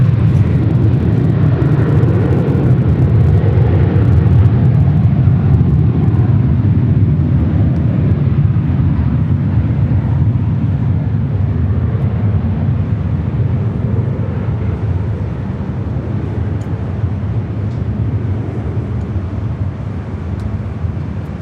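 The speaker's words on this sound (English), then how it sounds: "Next arrival at JetBlue, flight 807, coming in from Seattle on A320." A JetBlue Airbus A320 arriving at LAX at night from Seattle gives a steady, loud, broad engine roar with wind rumble that fades slightly over about twenty seconds.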